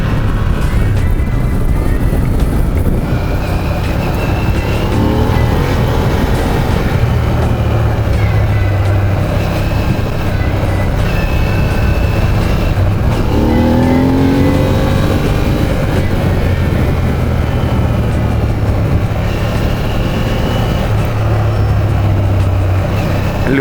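A car driving off the road along an uneven track rumbles steadily throughout, the engine droning and shifting pitch as it rolls on, loud and continuous with no speech heard.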